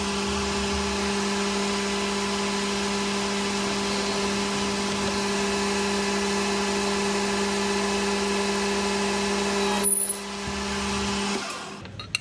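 Lathe running steadily through a light skim cut on the outside of a bush for an S-cam anchor pin, a constant machine hum with a tonal whine; it cuts out near the end and a brief clatter follows.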